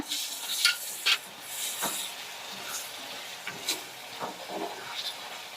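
Dried anchovies (nethili karuvadu) frying village style in a pan give off a faint, steady hiss broken by soft spatula scrapes and small crackles.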